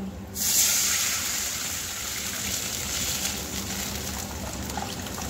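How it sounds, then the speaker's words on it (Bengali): Water is poured into a cooking pot over tempered spices for a semolina snack, a steady soft trickling and hissing pour that starts abruptly and continues evenly without talk. "এরপর আমি জল দিয়ে দেব।"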